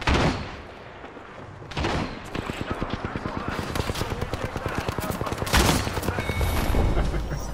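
Rapid, continuous gunfire in a video game crackles in steady close bursts that build after a brief pause, while a player speaks intermittently underneath.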